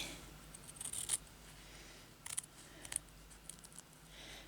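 Scissors cut through embroidered fabric pieces in a few short, quiet snips, grouped near the start, middle and end against a near-silent background.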